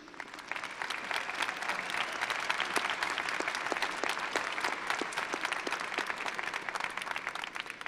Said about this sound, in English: I'd invite you to give all of them a round of applause as appreciation.